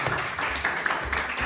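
A youth church congregation in Korea gives a short burst of hand clapping, a quick, moderately loud patter of overlapping claps lasting only a moment.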